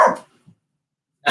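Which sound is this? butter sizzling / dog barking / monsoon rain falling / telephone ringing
dog barking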